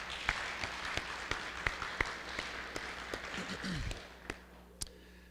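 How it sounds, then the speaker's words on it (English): Sparse applause from a small church congregation, a few distinct claps popping out over a soft patter that thins and fades toward the end, with a brief low murmur near the close. "let's give her another round of applause."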